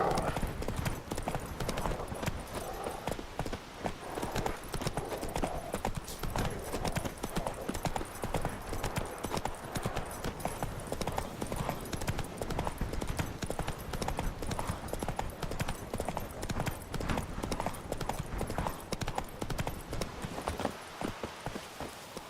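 Roach the horse gallops through The Witcher 3, a steady, close drumming of hooves running unbroken from start to finish with faint game ambience beneath.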